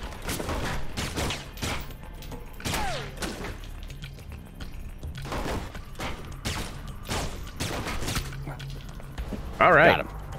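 Gunfire in Alpha Protocol rings out as a series of sharp, separate shots spaced through a firefight, with a louder burst near the end and voices talking throughout.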